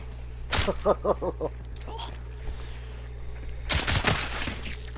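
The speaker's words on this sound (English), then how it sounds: "there's that little machine pistol action" Machine-pistol fire rings out in the video game Hunt, with two sharp rapid bursts of shots and a voice in between, against a low steady hum.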